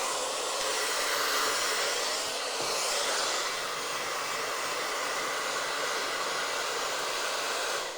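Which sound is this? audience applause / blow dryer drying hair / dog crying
blow dryer drying hair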